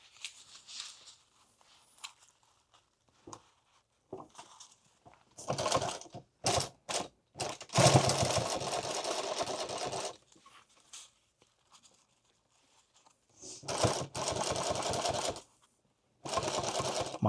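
A sewing machine stitches a rifle magazine pouch in bursts, with short stop-start runs and longer steady buzzing stretches of rapid needle strokes, close and clear between quiet pauses.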